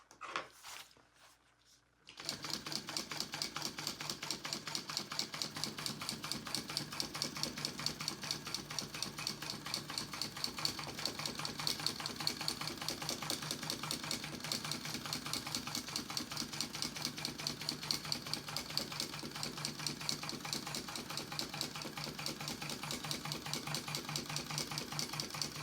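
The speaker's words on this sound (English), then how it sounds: "I'm gonna do a double row of top stitching to see if that helps smooth it out though" Sewing machine running a double row of top stitching on a clear jelly vinyl bag, a steady rapid mechanical chatter that starts after a brief quiet moment and continues evenly, close and uninterrupted.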